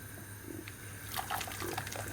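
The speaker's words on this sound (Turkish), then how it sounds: "Şimdi ilk acı suyunu çıkarıyorum." Hot, bitter boiling water poured off orange peels, a light watery trickle and splash that builds after a quiet start and runs to the end.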